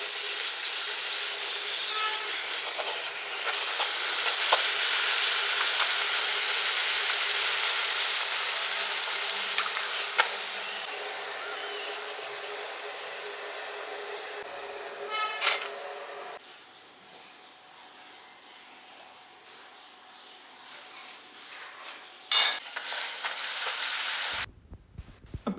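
Puris fry in hot oil with a faint, steady sizzle and hiss that thins out midway, joined by a few soft clinks and scrapes of a utensil in the pan.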